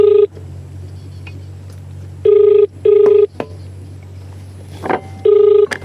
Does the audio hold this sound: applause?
no